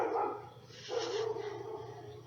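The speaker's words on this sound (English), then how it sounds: "there's a cat dog fight going on just as I was" Dogs barking and yipping in a scuffle with a cat, a few short excited barks close by over a steady low hum, with a person talking faintly in the background.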